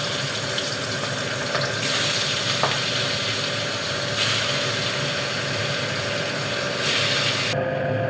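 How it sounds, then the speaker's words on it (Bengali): Catla fish pieces rubbed with salt and turmeric sizzle in hot oil, a steady crackling hiss that swells in a few louder surges, with no voices. "এবারে আমি মাছগুলো ভেজে নেব"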